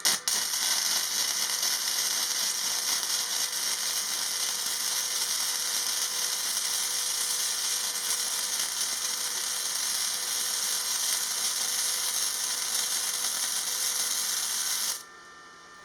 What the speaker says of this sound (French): J'ai refait une petite soudure spécialement pour cette vidéo